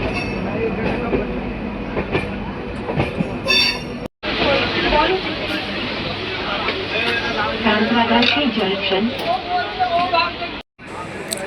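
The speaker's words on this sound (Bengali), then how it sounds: "আমাদের ট্রেন ঢুকছে তার প্রথম স্টেশন" A train arriving at a station rumbles and clatters on the rails, with wheel noise and the steady roar of carriages, as voices talk over it.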